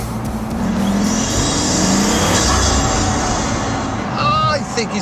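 Pagani Huayra's turbocharged engine roaring loudly, with a broad rushing induction and turbo whoosh swelling through, then ending in wastegate chirps and flutter.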